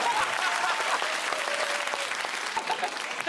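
Applause from a television comedy panel show studio audience, a steady dense wash of clapping at moderate loudness with a few faint voices mixed in.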